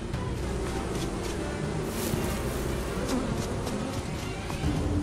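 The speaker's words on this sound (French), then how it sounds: "Les abeilles se battent et se la reprennent les unes aux autres." A dense, steady buzzing of many bees fighting one another fills the air continuously, close and unbroken, with no voices.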